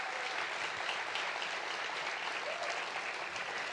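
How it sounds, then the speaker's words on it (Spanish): Steady applause from a church congregation welcoming first-time visitors, a dense even patter of clapping sustained throughout, filling the room without a break. "Los recibimos con un aplauso"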